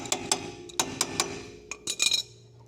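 Metal clinks and taps while a nut is fitted onto the inner tie rod of a 1996 Honda Civic during a suspension kit install, about a dozen sharp close clicks in irregular clusters.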